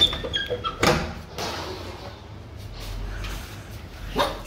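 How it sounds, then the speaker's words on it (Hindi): A dog barks a few times in short bursts early on, then quieter household noise with a soft thump or door sound follows. "पहले टोनी भौंकने लगा,"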